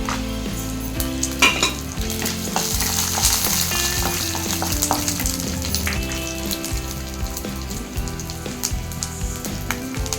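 Betel leaves and garlic crackle and sizzle in hot oil in a pan, a loud continuous fry with scattered sharp pops and occasional stirring clinks, no voices.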